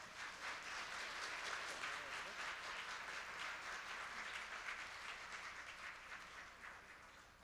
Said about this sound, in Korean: 여러분들 회장님을 위해서 큰 박수 부탁드립니다